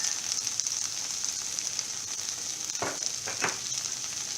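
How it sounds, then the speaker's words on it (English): Okra (bhendi) fries in a pan over a medium flame with salt seasoning, giving a constant bright sizzle broken by two short scraping stirs near the end, with no voices. "this has to be done on a medium flame because we have to fry our bhendi very well"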